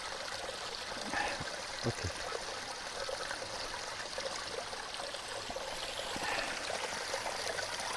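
Water from a mountain stream in Scotland trickling and pouring into a bottle, a soft continuous splashing flow close by, with a brief word spoken.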